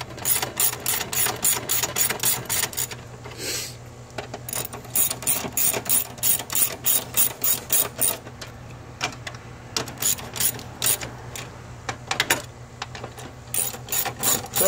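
Ratchet tightening 13 mm bolts on a 2012 Nissan Altima 2.5L during a CVT transmission job, with rapid, close, repeated clicking strokes in quick bursts broken by short pauses, and no voices.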